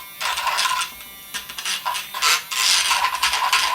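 Badger paint mixer whirring through thick paint in a can, bursts of gritty rasping and scraping that stop and start, close by with no talk.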